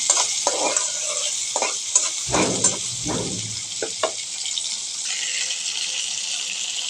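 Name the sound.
onion frying in pan for chicken curry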